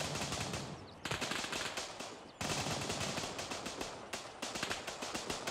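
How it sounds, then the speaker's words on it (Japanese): Rapid automatic gunfire in the military shooter game Gray Zone Warfare crackles in dense bursts separated by brief gaps, loud and close, with no talk over it. "なんかそっち側でも銃声してますね。"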